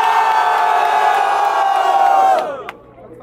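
Loud crowd at a rap battle final cheering and shouting in a sustained roar, then cutting off abruptly near the end, leaving near silence.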